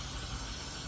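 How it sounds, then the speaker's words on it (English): Aerosol brake cleaner sprays in one continuous loud hiss during service on a Cfmoto Cforce 1000, steady from start to end without pause. "Oh, brake cleaner."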